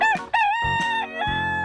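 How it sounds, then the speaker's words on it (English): A rooster crows loud and close, one full cock-a-doodle-doo with rising and falling pitch that runs the whole time, alone with no talking. "Cock."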